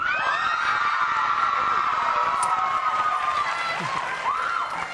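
A dense studio audience screams and cheers continuously for the Backstreet Boys at a talk show interview, high-pitched shrieks blending into a loud sustained roar with voices mixed in.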